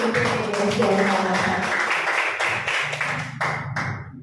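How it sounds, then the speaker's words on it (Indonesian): Applause for the school UPTD SDN Kamal 1 at a school event: dense clapping from a crowd, steady and fairly loud throughout, with some voices mixed in. "Aplaus untuk UPTD SDN Kamal"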